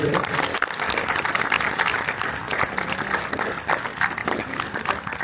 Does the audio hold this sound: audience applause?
yes